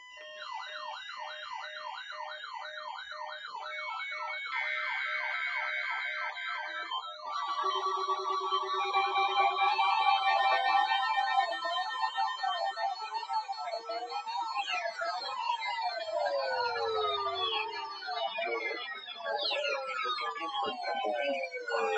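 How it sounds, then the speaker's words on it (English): Weather-radio alarm test signals from a web radio station carrying Pennsylvania weather broadcasts: loud, synthetic warbling and sweeping electronic tones that layer and shift over about twenty seconds, with no voices. "The preceding tone signals were a test of the alarm device of this web radio station"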